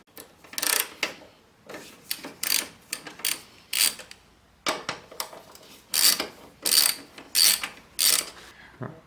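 Ratchet wrench undoing bolts on a Holden Captiva 2.2 diesel engine during a belt tensioner and pulley replacement, a close sequence of sharp rhythmic clicking bursts with brief pauses between strokes.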